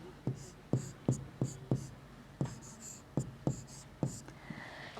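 Pen or pencil writing geometry construction notes on paper, a series of close, distinct taps and short strokes in an uneven rhythm, fairly quiet with no talking.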